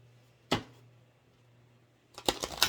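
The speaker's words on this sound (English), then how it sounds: "And I am going to shuffle them up one time." A deck of cards shuffled once, a quick riffling burst early on and then a longer flurry of rapid card flicks near the end, close and fairly quiet, with no talk.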